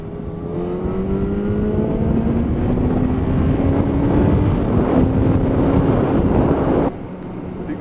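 A Yamaha FZ1 motorcycle pulls hard on an open road, its engine note climbing steadily through several seconds under heavy wind rush, then easing off sharply near the end.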